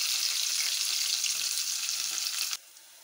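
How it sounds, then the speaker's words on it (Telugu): Onion pieces and green chillies fry in hot oil in a pan after cashews, a bright steady close sizzle that suddenly drops much quieter near the end. "ఇప్పుడు ఉల్లిపాయ ముక్కలు వేస్తున్నాను."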